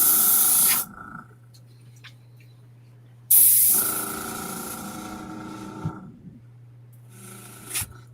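An airbrush sprays in two bursts, each a close, loud, steady hiss lasting about a second, with a quieter hiss following the second burst and a short faint puff near the end.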